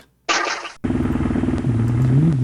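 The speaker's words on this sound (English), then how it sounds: "Alright, start that engine." An engine cranks with a short burst, pauses, then catches and settles into a steady, loud, close idle with a rhythmic chug and a rising tone near the end.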